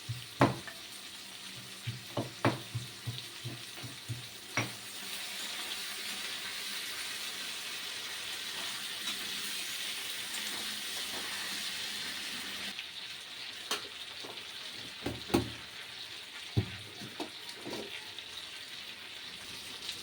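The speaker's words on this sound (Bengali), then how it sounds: "মাংসটা ভাজা হয়ে গেছে, এর মধ্যে আলু দিয়ে দিচ্ছি।" Meat frying in a pan for a home-style Bengali curry with potatoes and papaya to follow, a steady broadband sizzle with scattered clinks and scrapes of stirring, moderately close, no talk.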